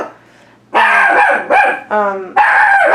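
Dog barking nearby indoors, several loud sharp barks in quick succession after a quiet start, with a person's voice also present.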